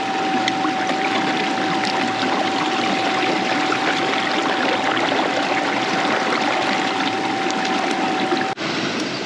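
Water rushes and gurgles steadily and loudly through a stream where gold is being prospected with a sight glass, a constant broadband flow with a faint steady tone underneath, ending abruptly near the end.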